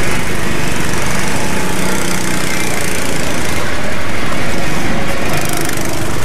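Go-kart engine revving hard while drifting on an ice track, a loud continuous high-pitched buzzing drone with heavy rumble, close and steady throughout.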